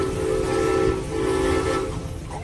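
An 18,000-pound antique steam engine labours over an incline, giving a loud, steady mechanical rumble with a sustained whistle-like tone that swells, dips and returns.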